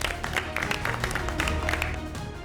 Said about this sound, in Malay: Kita berikan tepukan sokongan buat kedua-dua mereka.